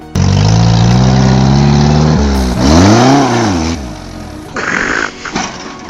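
A car engine revs hard and loud during a driver's stunts, pitch climbing and falling in sweeping surges before dropping away, with tire and road noise trailing off at the end.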